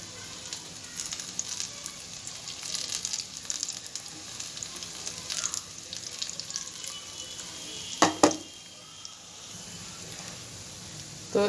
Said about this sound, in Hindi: और अब हम इसके पकोड़े तलते हैं।